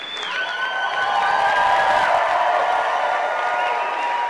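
Roughly 500 poetry lovers at a poetry slam final in Saskatoon clap and scream together, a dense, sustained wash of applause and high cheering that holds steady throughout.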